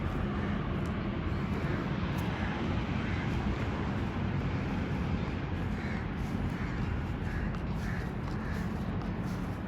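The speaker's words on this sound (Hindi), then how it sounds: "और साथ दो मैना भी।" Two myna birds call among city buildings, their harsh, scattered calls repeating over a steady, loud background hum from the surrounding urban area.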